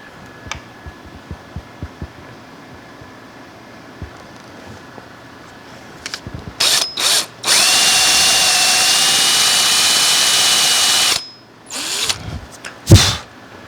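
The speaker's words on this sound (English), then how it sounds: "we need to drill some pilot holes" Power drill boring pilot holes into a solid oak quilt rack, heard after a stretch of quiet handling as several short bursts and then one long, loud steady whine of about four seconds, followed by a few brief trigger pulls.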